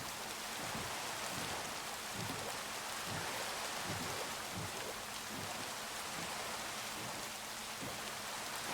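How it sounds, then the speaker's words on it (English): Heavy rain ambience in the Minecraft video game, a dense, steady hiss of falling rain with soft patters, loud and continuous throughout. "The rain is very loud in this game."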